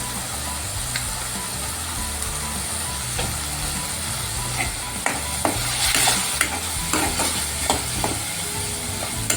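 Onion and tomato masala cooks in a pan for a sandanyachi bhaji, a steady sizzle with scattered scraping clicks of stirring growing busier toward the end; no talk.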